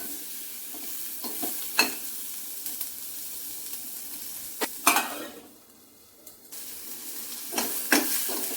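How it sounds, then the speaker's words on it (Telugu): Chopped onions fry with curry leaves in an oiled pan under a continuous hiss. A spatula scrapes and stirs at irregular intervals, and the sizzle briefly quiets down before picking up again. "తరిగి పెట్టుకున్న ఉల్లిపాయలు వేసి మంచిగా కలుపుకొని 1-2 నిమిషాలు మూత పెట్టి మగ్గనివ్వాలి"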